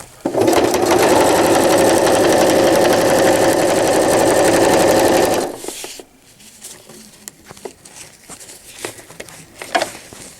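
A sewing machine stitches new velcro onto a cloth diaper in a fast, even run of rapid needle strokes that stops abruptly partway through, followed by quiet handling clicks and rustles.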